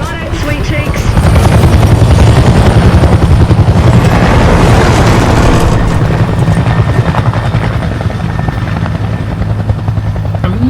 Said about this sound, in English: Yeah, so they're dragging it underneath a helicopter.